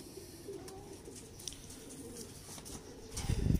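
Janwan-coloured pigeons of the Mian Nazeer bloodline, a breeder pair, cooing softly and low in steady murmurs, faint and close, with a louder rustling burst at the end.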